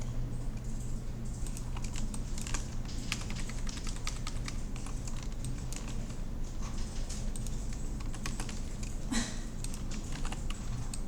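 Typing on a computer keyboard, with Ctrl+C and Ctrl+V copy-and-paste shortcuts, quick light key clicks in irregular bursts over a steady background hum, close and quiet, with no talking.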